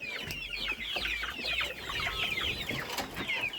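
Chickens on a home farm yard, including an Australorp rooster, cluck and chatter in a steady busy flock, the calls overlapping continuously at close range.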